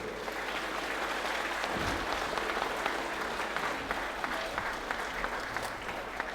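An audience applauds distinguished guests at a FilCom Independence Day celebration, a steady, fairly faint patter of many hands clapping throughout with little voice beneath it.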